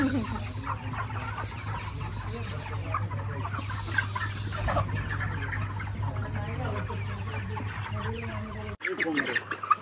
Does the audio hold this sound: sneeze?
no